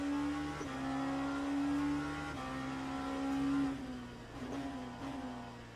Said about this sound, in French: Alors je suis plus habitué à rouler cette LMP2 déjà.